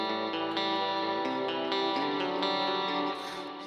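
A Jackson Matt Tuck signature electric guitar on its front pickup with a clean tone plays a ringing, chord-based phrase with some effects shimmer, then sustains and fades slightly at the end.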